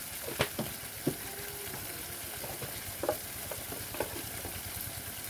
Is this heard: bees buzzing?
no